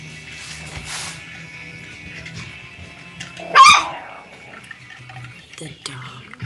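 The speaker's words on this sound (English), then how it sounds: "The dog." A dog named Nero gives a single sharp bark, loud and close, amid faint whimpers and soft whispering voices in a quiet room during a live online show.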